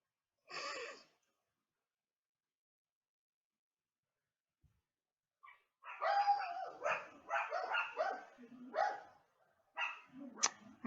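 Dogs bark in a household setting, one short bark up front, then after a pause a run of rapid, irregular barks and yips that are fairly close and carry no speech over them.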